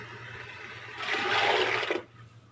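Water is poured from a steel glass into a cooking pot of dal moong, a rushing splash that swells for about a second over faint background hum, then stops abruptly.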